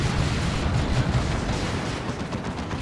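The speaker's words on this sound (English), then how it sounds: "There's that Chem Cannon burst thing, slowing down those Raptors." Chem Cannon burst in the Warhammer 40,000: Dawn of War 2 strategy game, a dense rumbling barrage of blasts and crackling impacts amid battle noise, low and continuous for a few seconds.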